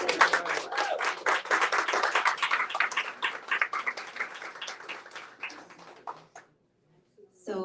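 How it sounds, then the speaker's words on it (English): An audience at the close of an evening talk on women as revolutionaries bursts into sustained applause, a dense crowd of claps that slowly thins and dies away to silence before a voice starts speaking again. "Can we get Sheila Brown another round of applause, please?"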